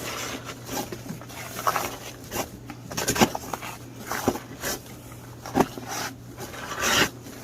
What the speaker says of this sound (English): I'm just going to take some rubbing alcohol, clean them up real good.